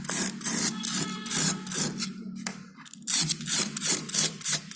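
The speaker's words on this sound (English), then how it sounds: "I will be using this sandpaper, and with the help of this sandpaper, I will be rubbing this" Sandpaper rubbing rust off an iron nail, a loud close rasping scrape in rapid back-and-forth strokes with brief pauses, no talking.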